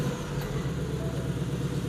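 A 2018 Ford Mustang Bullitt with a specially tuned exhaust runs as a steady, quiet engine rumble just after a push-button start, heard alone without voices for about two seconds.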